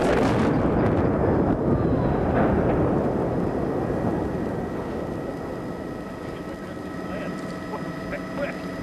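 Rumbling blast from the demolition of a cracked section of the Hoan Bridge, a loud broadband roar that decays slowly over several seconds with a lingering low rumble and faint steady tones.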